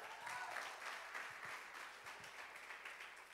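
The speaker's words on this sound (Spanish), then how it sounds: "Un aplauso a ella" Applause from a women's church gathering, a dense continuous patter of many hands clapping at moderate distance, holding steady without pause.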